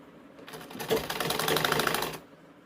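A sewing machine stitches blouse fabric in one short burst of about two seconds, a rapid, rhythmic clatter heard up close that starts and stops cleanly.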